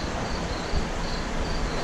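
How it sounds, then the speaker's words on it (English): Electric fans running to dry out a wet shop after a roof leak, a steady, loud broadband whir that holds constant throughout with no talk. "got the fans going. You'll have to excuse the noise here just for a little bit."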